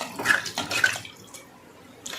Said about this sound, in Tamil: இப்போது இதுக்கு தண்ணி சேர்த்துக்கலாம்.